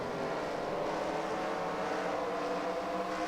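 Dirt race car engines roaring on the Eldora track, a steady dense drone of several cars at once, loud and continuous with no pauses.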